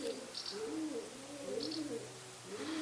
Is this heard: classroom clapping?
no